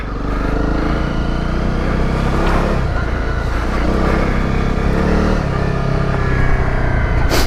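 A Honda CRF250 Rally motorcycle rides off road through mud and puddles, its engine loud and close with rising and falling revs over constant wind and road noise.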